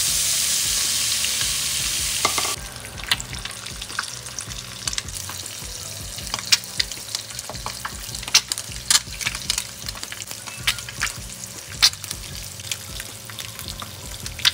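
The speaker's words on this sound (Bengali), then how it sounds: "এবার ডিমগুলোকে আমি ভেজে নেব একটা ফ্রাইং প্যানের মধ্যে তেল দিয়ে।" Eggs fry in hot oil in a frying pan for a spicy egg curry, starting with a loud hiss for a couple of seconds before settling into a steady sizzle with scattered sharp crackles and pops.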